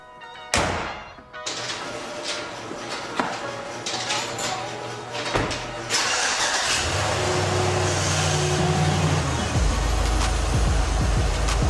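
A GM minivan engine cranks and catches, then idles and revs as the vehicle pulls away in a repair shop, steady and fairly loud, with faint clatter nearby.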